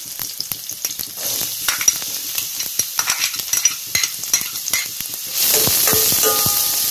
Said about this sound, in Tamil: இப்போ வந்து வெங்காயம் சேர்த்துடலாம்.